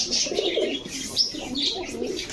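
Pakistani Babra and Rampuri fantail pigeons coo in steady, throaty rolls, close and fairly loud, with a few sharp chirps and a brief flutter of wings mixed in.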